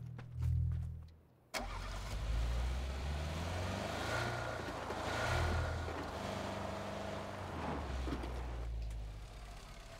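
A car engine cranks and fires up in PUBG: Battlegrounds, following a short low rumble, then settles into a loud, steady running drone with slight swells in revving, with no talking over it.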